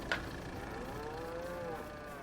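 A single cow moos faintly on a farm in a farming video game, one drawn-out low call rising and falling after a brief click, with a steady hum underneath.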